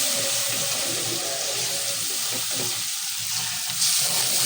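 Spices with turmeric and chili powder frying in a pan, a dense continuous sizzle with occasional stirring scrapes, close and fairly loud.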